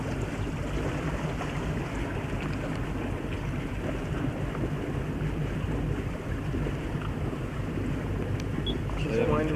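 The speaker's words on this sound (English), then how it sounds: "Just wind around." Wind gusting across Lake Powell, a steady broadband rush with water and boat noise beneath, fairly even throughout while people talk over it.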